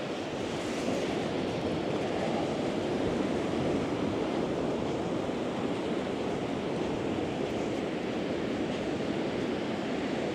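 Large sea waves breaking on Runkerry Beach, a continuous loud roar of surf mixed with wind buffeting the microphone, steady throughout with no voices.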